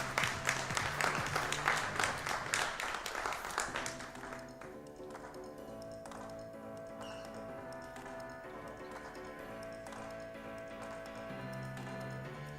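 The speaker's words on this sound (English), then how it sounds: "Big round of applause for the Danny Dolls" Audience applause for the Danny Dolls at an MWUSA event rings out loudly for about four seconds, then falls away into quieter background music with scattered faint claps.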